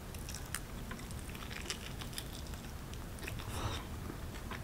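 Someone chewing and biting food at close range, wet mouth sounds and small crunches repeating steadily over a few seconds, quiet and with no talking.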